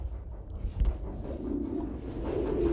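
Domestic fancy pigeons coo softly in a low, murmuring run that grows slightly in the second half, with a brief thump near the start and no voices.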